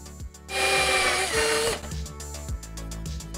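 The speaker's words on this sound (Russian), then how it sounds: "Сверлю сверлом 2 мм." Metal drilled with a 2 mm drill bit while making a homemade jig lure: a steady high whine of about a second, surrounded by repeated mechanical clicks and light thumps, close and alone.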